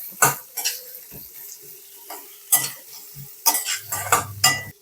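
A spoon scrapes and clanks against a pan in irregular strokes as onion is stirred through sizzling oil; no one speaks.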